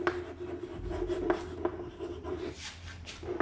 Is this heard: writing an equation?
yes